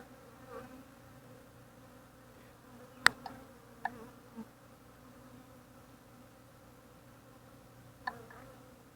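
Honeybees hum in a low, steady drone while a nucleus colony is transferred into a hive, quiet and close, broken by a few sharp knocks and clicks of wooden frames.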